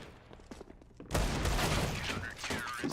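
CZ-75 pistol fire from a CS:GO Mirage match erupts in a loud burst of rapid shots over the background, with a commentator's voice beneath the clamour of the game.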